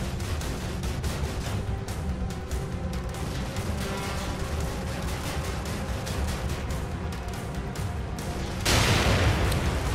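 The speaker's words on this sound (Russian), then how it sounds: "Тоже взрывается в воздухе" A projectile bursting in mid-air in the survival horror game The Evil Within, heard as a sudden loud blast near the end over a steady dense rumble of gunfire-like booms, with no talk.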